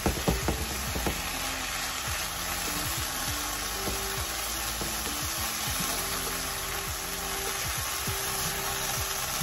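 Ground turkey with onions cooks slowly in a pan on a stove at medium heat, giving a steady, quiet sizzle and crackle with scattered small pops throughout, heard alone with no voices.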